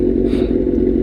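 Sportbike fitted with a Danmoto XG-1 exhaust, giving a loud, steady low engine drone that holds throughout with a slight swell near the middle, close and alone.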